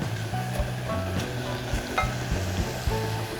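Curry filling sizzles steadily in a frying pan while a spoon stirs it now and then, giving soft scraping pulses over a constant frying hiss, close and fairly loud.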